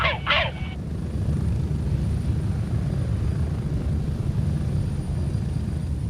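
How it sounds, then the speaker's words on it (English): Helicopter in the video game Escape from Tarkov flies overhead, a steady close rotor thump and engine rumble sustained throughout, with a brief voice-like burst at the very start. "Thank you, Mr. Chopper."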